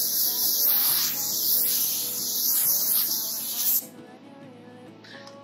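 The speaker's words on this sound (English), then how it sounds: "Spray the heck out of it and call it good." An aerosol can of White Rain hairspray hisses in a long, steady burst close by for about four seconds, then cuts off into quiet room noise.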